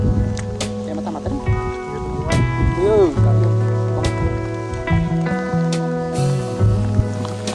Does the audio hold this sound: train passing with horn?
no